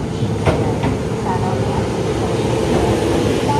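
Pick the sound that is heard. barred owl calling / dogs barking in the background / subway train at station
subway train at station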